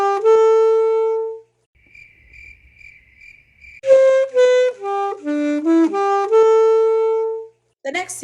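An alto saxophone plays a note sequence: one long held tone, a quiet gap, then a quick run of distinct notes ending on another sustained tone, clear and close.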